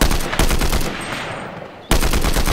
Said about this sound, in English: Oh, here it is, combat AR.